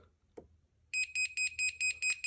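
A Mr. Pen voltage tester beeps near a live wire, giving a quick train of seven sharp, loud, evenly spaced electronic beeps after a brief soft click, with no talking.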